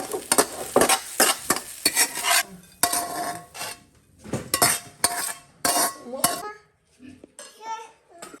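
Rice stir-fried with sour chili in a wok, with repeated scraping and clanking of a metal spatula against the pan over a low sizzle, in uneven bursts separated by short pauses.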